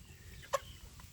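A single short chirp from free-range village chicks in a netted pen, a brief faint peep over a low background hum.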